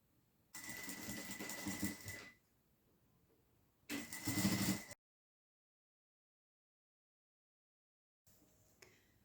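A sewing machine stitches along the edge of a phone wallet in two bursts of close, steady whirring, the second one shorter, separated by quiet pauses, with a faint restart at the end and no talking.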